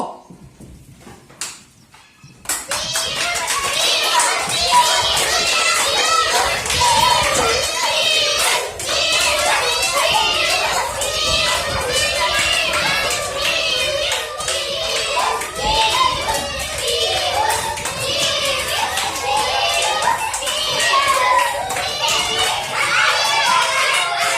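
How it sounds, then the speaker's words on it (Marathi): A group of schoolchildren at a Saturday games fair clap loudly and rapidly together after a short pause, a dense sustained burst of applause mixed with shouts and chatter. "योगीराजसाठी सगळ्यांनी जोरात टाळ्या वाजवायच्यात"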